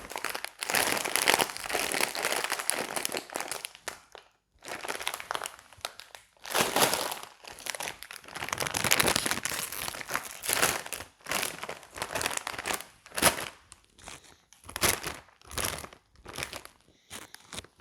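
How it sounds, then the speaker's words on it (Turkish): A crinkly plastic bag of Samba Tako corn chips being torn open and handled, loud close crackling and rustling in bursts with short quiet gaps, no talking. "İlk olarak takoyu açalım."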